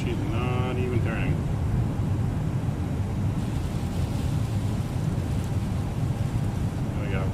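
Rain in Microsoft Flight Simulator falls steadily as a broad, continuous hiss mixed with rumbling wind inside the cockpit, heard alone for several seconds.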